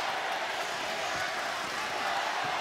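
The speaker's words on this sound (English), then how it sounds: "The crowd is electric here." A dense arena crowd at a homecoming boxing fight in Toledo's Huntington Center roars in a steady, continuous wash, loud and unbroken for a few seconds.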